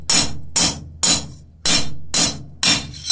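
A blacksmith forges a metal cross with a peen hammer, six sharp ringing blows at an even, measured pace, each one loud and close, with a short metallic decay before the next strike.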